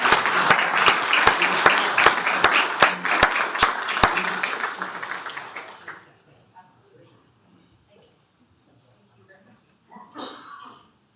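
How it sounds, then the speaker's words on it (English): Brief applause at a county commissioners court meeting, a handful of sharp, evenly spaced claps over a murmuring room that fades after about four seconds, leaving quiet shuffling, coughs and a short burst of talk near the end. "let's give them a big round of applause."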